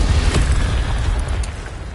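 Incendio fire spell from Hogwarts Legacy bursts in a loud, deep booming blast with a rumbling roar that slowly fades over two seconds.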